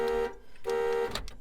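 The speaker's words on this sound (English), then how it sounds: "Let's make the alarm go." A car alarm set off with the key remote gives a near, loud electronic tone in two sustained blasts with a short gap between them, ending in rough sputtering noise.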